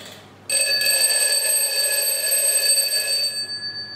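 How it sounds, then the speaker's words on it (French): A Mickey alarm clock rings with a bright, steady electronic tone that starts abruptly after a moment of quiet, stays loud and even, and fades out near the end. "Ça fait longtemps que j'en veux un réveil."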